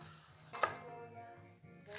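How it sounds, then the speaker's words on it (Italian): A knife chops through fresh artichokes, cutting them into quarters on a board in a kitchen, with two distinct close cuts about a second and a half apart and no talking. "Li taglio in quattro parti, così."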